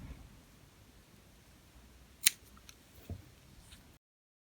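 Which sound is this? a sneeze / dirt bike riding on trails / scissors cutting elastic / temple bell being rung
scissors cutting elastic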